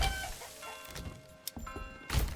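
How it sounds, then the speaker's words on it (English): Chickens in the farming game Manor Lords give soft, scattered clucks among quiet in-game ambience, with brief knocks and a fuller burst of sound near the end. "Let's just chuck in some chickens to start."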